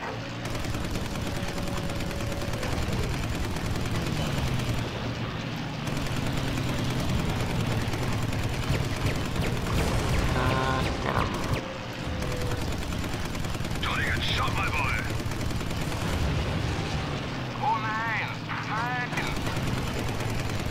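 Aircraft machine guns fire at BF 109 fighters in Combat Wings: Battle of Britain, rattling bursts over a droning engine, with voices speaking briefly between the volleys.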